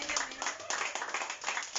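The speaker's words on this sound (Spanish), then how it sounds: "Dale un aplauso al Señor." A church congregation claps during a sermon, a brief burst of fairly quick, close handclaps at low level, with no talking.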